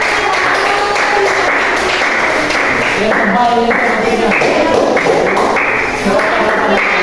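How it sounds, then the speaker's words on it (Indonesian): A group claps together in a dense, steady patter in a classroom, with voices mixed in underneath throughout. "Tepuk tangan."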